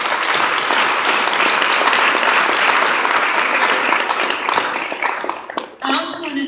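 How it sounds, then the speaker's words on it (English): An audience gives a sustained round of applause in a hall after a leader is praised, dense and loud for about six seconds before fading into a brief voice at the end. "I think we should all give him a round of applause"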